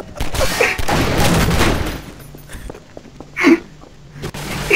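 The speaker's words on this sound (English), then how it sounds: "Oh, there's a turret!" Automatic gun turret in Garry's Mod firing a rapid burst of shots, loud and dense, followed by a few scattered sharper reports, with a gasp and footstep-like thuds.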